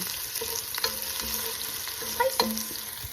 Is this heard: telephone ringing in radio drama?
no